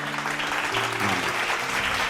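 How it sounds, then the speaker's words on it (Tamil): A congregation claps during an evening faith sermon, giving a short, steady burst of applause from a nearby audience. A voice can be heard faintly underneath. "கைத்தட்டுங்க"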